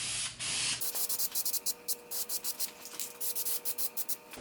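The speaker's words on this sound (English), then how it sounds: "What I like to do is I like to spray the sides first." An aerosol can sprays sealer onto MDF edges, hissing in a rapid series of short bursts, near and steady in rhythm, after an opening longer spray.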